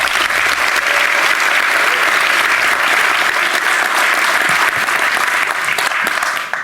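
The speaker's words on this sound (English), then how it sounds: "So please give another round of applause to our beautiful hosts for having us here tonight." Loud, dense round of applause from a live audience at an event on space politics in Washington, D.C., a continuous wash of clapping that fades slightly at the end.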